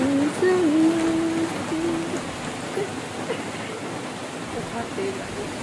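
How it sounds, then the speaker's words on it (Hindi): Heavy rain pours steadily after a cloudy spell, a dense continuous hiss heard from indoors, with a faint tonal whistle drifting over it near the start. "बहुत तेज़ बारिश स्टार्ट हो गई है, कल से ही बादल किया हुआ था, लेकिन देखो कितनी तेज़ बारिश है।"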